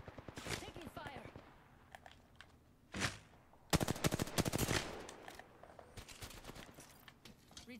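Automatic gunfire bursts in the battle-royale shooter Apex Legends, loud rapid volleys clustered in two spells amid game effects, with talk around them.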